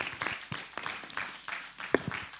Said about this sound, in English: A round of applause for our chairman again.